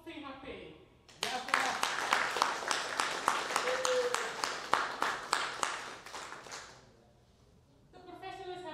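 An audience applauding for VHP at a gathering, a burst of steady crowd clapping lasting several seconds between stretches of a voice speaking, moderately loud and then fading out.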